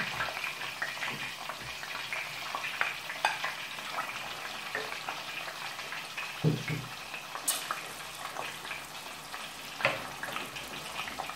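Minced meat for kabak oturtma sizzling steadily in a pan, a quiet, close crackle of frying with occasional stirring scrapes and clinks, no talk.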